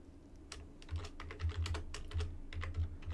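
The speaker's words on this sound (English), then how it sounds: "We're going to be typing in here Game Master." Typing on a computer keyboard, a close, fairly quiet run of irregular key clicks with some louder thumps in between and no talk.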